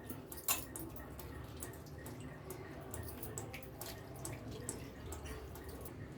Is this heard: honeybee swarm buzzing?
no